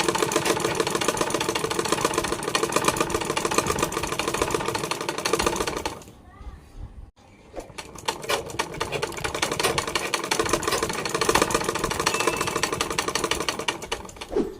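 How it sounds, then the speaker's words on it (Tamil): A sewing machine stitching straight seams in fabric, with a fast mechanical rattle running loud and close, pausing briefly midway before resuming steadily. "அப்படியே அது மேலே தையல் போட ஆரம்பிச்சிருங்க"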